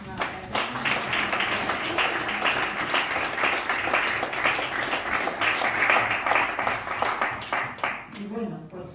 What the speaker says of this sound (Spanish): Así que pido un aplauso para ellas